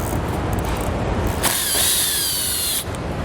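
A power tool runs in one steady burst of about a second and a half, removing T25 Torx bolts from a panel behind the fascia of a 2019 Alfa Romeo Stelvio, heard close over a constant background hum.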